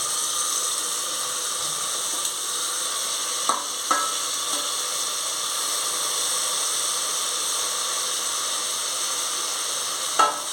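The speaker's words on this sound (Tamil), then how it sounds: "தக்காளி கட் பண்ணி வச்சுருக்கேன் ரெண்டு தக்காளி போடுறோம்" Two chopped tomatoes sauté with ginger garlic paste in a pan for dum biryani, making a constant hissing sizzle with a few faint spoon knocks now and then.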